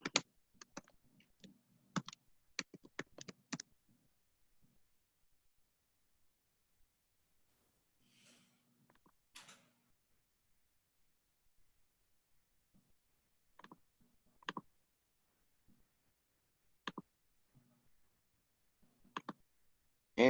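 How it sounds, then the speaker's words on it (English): Sparse clicks of typing on a computer keyboard in a quiet room, short bursts of keystrokes separated by long pauses. "I'm just going to type those emails into the chat."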